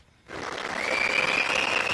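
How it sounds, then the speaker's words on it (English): A brief round of applause swells up from quiet, joined by a sustained high whistle riding above the clapping, moderately close. "That's a short applause and a whistle, okay?"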